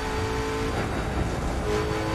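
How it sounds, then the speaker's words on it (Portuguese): A car accelerates and drives along a road, its engine and road noise forming a steady, loud roar throughout with no pauses. "esse carro anda demais, mano"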